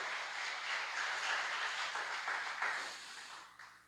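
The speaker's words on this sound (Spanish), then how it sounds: "Den un aplauso a Dios, porque Él pelea por nosotros." Church congregation applauding together during a Spanish-language service, a steady broadband clatter of many hands filling the room for several seconds before thinning out toward the end.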